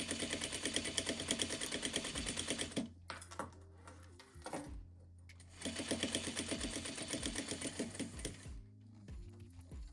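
A sewing machine stitches across the bottom of a zippered pouch in two steady rapid runs, separated by a brief pause with clicks and a pivot, moderately close and clear.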